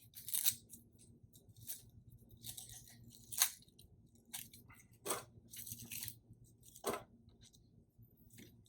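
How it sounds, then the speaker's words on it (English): Papery onion skin peeled by hand from a halved onion, with several separate crisp crackles and tearing snaps spaced a second or two apart, close and fairly quiet, over a low steady hum. "And then just peel this little skin off."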